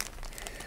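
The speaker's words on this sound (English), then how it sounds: "let's take it out of the plastic" Plastic packaging crinkles as a small brooch is unwrapped, a short burst of close, crackly rustling with uneven bright crackles throughout.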